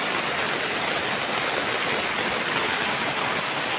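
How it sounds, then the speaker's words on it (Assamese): Steady rain falls on a flowering plant, a dense, even hiss of drops that stays constant and fairly loud throughout with no voices. "বৰষুণৰ পানী পৰি আছে বেচেৰা ফুলজোপাত"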